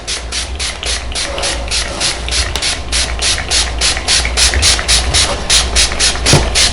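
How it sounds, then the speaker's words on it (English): A dauber works liquid saddle soap into cowhide leather shoes, giving a steady run of rhythmic, close scrubbing strokes with a soft hissing texture over a low background hum. "I am going to use the dauber because it does get in to the skin, and it does get into all the little nooks and crannies"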